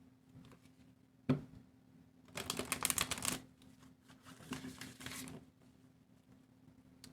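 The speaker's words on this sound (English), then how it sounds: "Let's shuffle that again." Rapid riffling and flapping of tarot cards being shuffled in a couple of bursts, crisp and close, separated by quieter handling noises; no talking.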